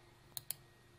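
Two faint, crisp computer mouse clicks come in quick succession against a quiet background during a software installation on a PC.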